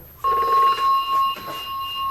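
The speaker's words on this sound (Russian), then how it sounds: "О, телефончик." A telephone rings steadily in an indoor office, the bell tone sounding clearly and continuously across the whole moment with no one speaking.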